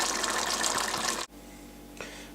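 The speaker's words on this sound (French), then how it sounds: "je vais rajouter un verre d'eau. Un verre de 25 centilitres d'eau" A glass of water, about 25 centilitres, pours into a simmering veal and bacon stew in a pot, a loud steady gush lasting about a second before cutting off, followed by a quiet lull and a faint splash.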